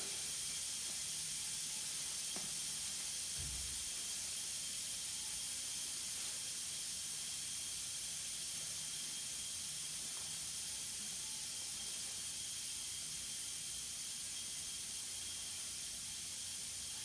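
A steady, faint high hiss of air escaping from a leak runs throughout, with a couple of soft clicks near the start and no voices.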